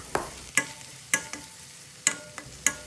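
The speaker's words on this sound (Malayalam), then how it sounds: "ചതച്ച് വെച്ചിരിക്കുന്ന ഉള്ളിയും വെളുത്തുള്ളിയും ഇഞ്ചിയും കൂടി ചേർത്ത് കൊടുക്കാം." Crushed onion, garlic and ginger with curry leaves being stirred in a pan over medium to low flame, a soft sizzle broken by several sharp spoon scrapes and knocks at irregular intervals.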